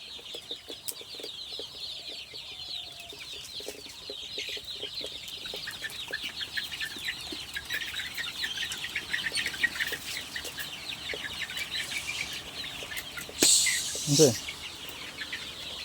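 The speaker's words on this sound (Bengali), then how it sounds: "আপনারা দেখুন কি সুন্দর লাগছে মুরগিগুলাকে।" Chickens clucking and chattering continuously in a flock, close by, with a brief burst of wing flapping and a louder call near the end.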